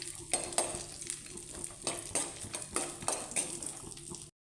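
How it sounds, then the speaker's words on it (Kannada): Cashews and almonds fry in a pan for carrot halwa, a steady low sizzle under repeated scraping strokes of a spoon and occasional metallic clinks, close and moderately quiet with no talking. "ಗೋಡಂಬಿ ಬಾದಾಮಿ ಫ್ರೈ ಮಾಡ್ಕೊಂಡು"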